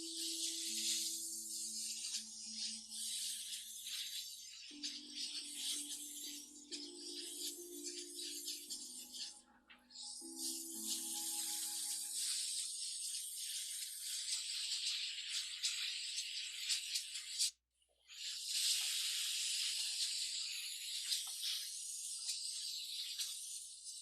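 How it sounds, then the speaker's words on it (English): An airbrush sprays paint in a continuous bright hiss that stops briefly twice, with a low hum from the compressor running underneath throughout. "That was kind of a fun little exercise, little airbrush exercise to see if my airbrushes are working"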